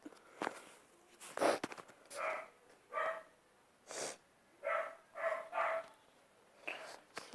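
A dog named Kiko gives a series of short, soft, muffled barks or huffs at close range, spaced irregularly with snorts and light shuffling in between.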